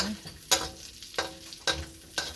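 Fat rendering from meat heats in a pan over medium heat, making a low, steady sizzle broken by several sharp stirring or scraping knocks at an even pace, with no talk.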